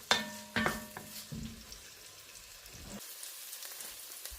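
Onions frying in oil in a pan give off a soft, steady sizzle with a few sharper pops and clinks near the start, then settle into a quieter crackle with no one speaking.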